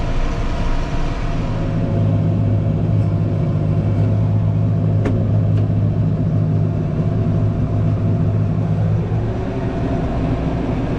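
A tractor engine runs steadily at around 540 RPM while cutting and rolling hay, a loud, close, continuous droning rumble with a low hum throughout and a brief clank midway.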